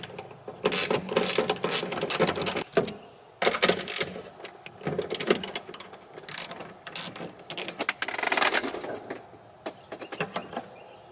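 A ratchet clicks in quick bursts as it backs out the two 8mm taillight bolts on a BMW X5M, the close metallic pawl chatter repeating in several runs with short pauses between them.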